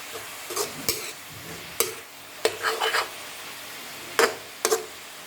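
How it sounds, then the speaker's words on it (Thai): Pork being stir-fried in a pan on moderate heat, with a utensil scraping and stirring in several separate bursts over a quiet background and a soft sizzle. "แล้วก็คั่วครับคั่วหมูให้สุกครับ นี่ครับคั่วมันไปเรื่อยครับ"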